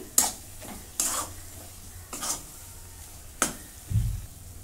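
Ginger, garlic and coconut being sautéed in a pan for egg masala: a soft background sizzle broken by five or so brisk spatula stirs and scrapes, close up, with no talking.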